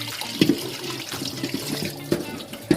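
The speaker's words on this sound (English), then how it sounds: "Now I'm running a cold water through it." Cold tap water running steadily into a sink over vegetables being rinsed, with a continuous splashing rush punctuated by a few louder knocks and clatters.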